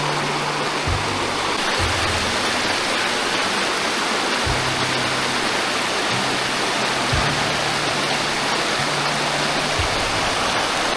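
Water flows steadily at a resort with bathing cottages, a loud, constant broadband rush like a stream or small waterfall filling the whole clip, with faint low tones drifting under it and no talking.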